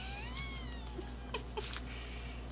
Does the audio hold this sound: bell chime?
no